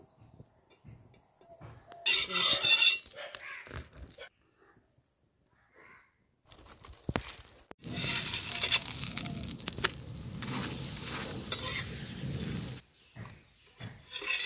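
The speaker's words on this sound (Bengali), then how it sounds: "আমি আজকে ডালদা দিয়ে পরোটাগুলো ভাজবো" Tomato lachha paratha fries in Dalda in a pan, giving a loud, steady broadband sizzle that starts partway through and runs to the end, preceded by brief bursts of frying and handling noise.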